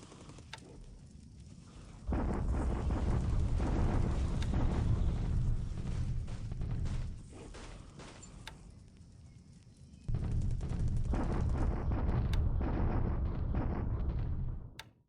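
Artillery bombardment in War in the Pacific, heard as two long stretches of loud, rumbling roar with scattered sharp bursts, separated by a quieter lull, no voices present.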